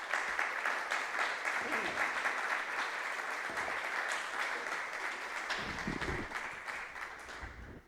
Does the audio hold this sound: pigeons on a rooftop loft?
no